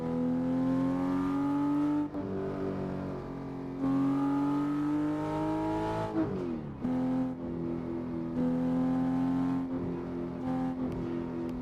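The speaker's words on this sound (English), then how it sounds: "I'm driving the Porsche 911 GT3 here on no Hesi" Porsche 911 GT3 engine in the Assetto Corsa racing sim, a steady loud harmonic drone that climbs in pitch through the gears, with a sharp drop and shift around the middle before rising again, no voices.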